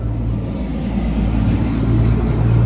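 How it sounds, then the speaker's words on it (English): Steady low roar of traffic on a highway-like road, trucks and cars passing in a continuous rumble with a faint engine hum rising slightly toward the end. "If you hear any noise in the background, trucks, cars, whatever the case may be, this is sort of a highway somewhat"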